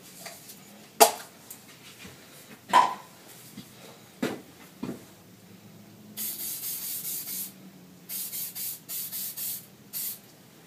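Adhesion promoter sprayed from an aerosol can onto a plastic bumper during a one-sided repair: a few scattered knocks and rattles, then a run of short, close hissing spray bursts in quick succession.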